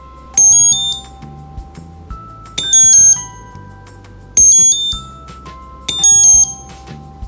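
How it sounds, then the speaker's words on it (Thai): A piezo buzzer on an ESP32 board plays a short beeping melody of high electronic tones, repeated four times with brief pauses between phrases, loud and close. "ทำให้เราสามารถใช้บัสเซอร์ชนิดนี้ในการเล่นเมโลดี้"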